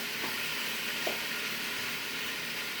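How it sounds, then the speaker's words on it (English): Steady, continuous sizzling of chicken browning in a hot Ninja Foodi pot, a dense crackling hiss with no talking. "you can hear it sizzling, nice and hot"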